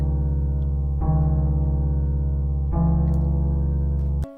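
Dark UK drill beat made in FL Studio with two Gross Beat effects stacked, heavy sustained bass and low tones dominating, chord changes near one and three seconds, a muffled melody sitting underneath, no voices.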